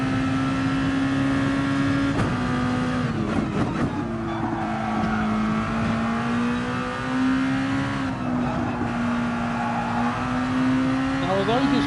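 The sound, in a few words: race car tyre noise at Nürburgring GP in a racing video game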